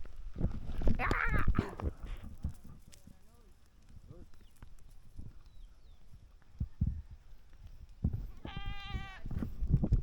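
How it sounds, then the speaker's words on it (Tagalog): A goat in Cebu, Philippines gives a loud, wavering bleat near the end, after fainter animal calls, clattering and people talking nearby. "Kambing oh."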